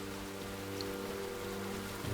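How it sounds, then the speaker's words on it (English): In the video game Enshrouded, rain falls as a steady, faint hiss of drops on surfaces, an even wash of noise with a low constant hum underneath and no voices. "Of course, it's gonna rain. It always does."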